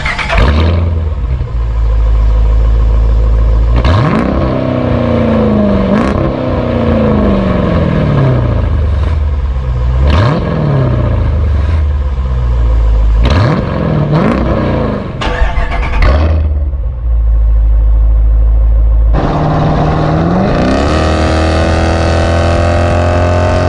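A loud car engine with a Stainless Works cat-back exhaust revs repeatedly through a deep exhaust, each rev rising and falling back to a rumbling idle, then a long climbing pull near the end.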